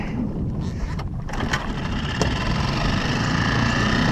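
A small outboard boat motor in neutral starts and settles into a steady idle, a mid-pitched running drone with a few sharp clicks early on, heard up close.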